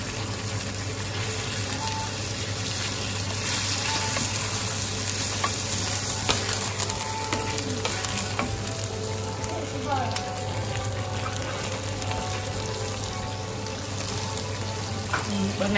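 Mushrooms stirred in a hot pan, a steady dense sizzle with scraping stir sounds throughout, fairly loud and close, with a voice talking over it at times.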